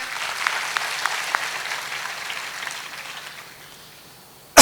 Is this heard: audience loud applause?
yes